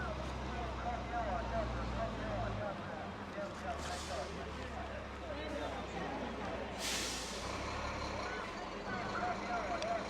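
A truck passing on a mountain road in light rain, its low engine rumble steady in the background then easing off, with a hiss of tyres on wet pavement and people talking over it.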